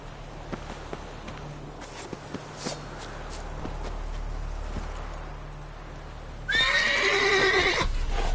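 Roach, Geralt's horse in the video game The Witcher 3: Wild Hunt, clops along in a soft run of hoofbeats, then lets out a loud, close, drawn-out whinny near the end.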